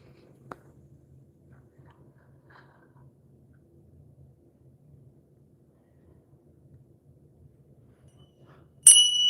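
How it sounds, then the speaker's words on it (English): A single bell rings out clearly near the end, a bright sharp strike with a lingering metallic tone, after a long quiet stretch with only a faint murmur and one small tap. "I'm just going to ring the bell just to clear the energy right now."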